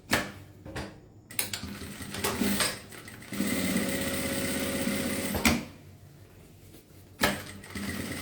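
Sewing machine topstitching a game-themed toiletry bag, bursts of rapid mechanical stitching starting and stopping, with a longer continuous run in the middle and small handling clicks between.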